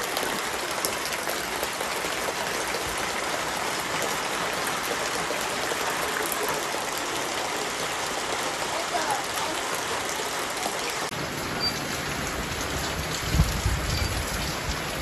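Steady, dense rain pours down in a village during a storm with a continuous hiss, shifting partway through to a closer patter as water splashes nearby.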